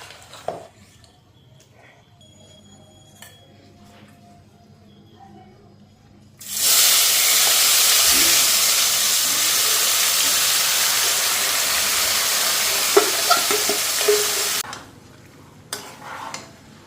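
Jackfruit being fried in a pan for a meat-style curry gives a loud, steady sizzle that bursts in after more oil goes in and holds for about eight seconds, with a few stirring clicks before it cuts off.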